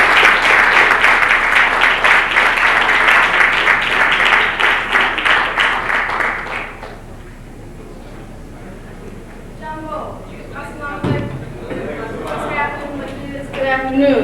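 Dense, loud applause from an audience welcoming a speaker at a talk on contemporary African art fills the first half, then stops as a person begins speaking alone.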